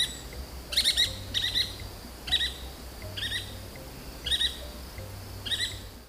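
A yellow-fronted woodpecker calls in the Atlantic Forest with a series of about six short, sharp, high notes, each burst a quick doubled chirp, repeated at roughly even intervals over faint background hiss.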